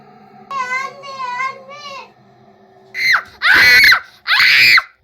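A young child shrieks loudly in a home, letting out three sharp, piercing screams in quick succession after a stretch of softer babbling vocal sounds.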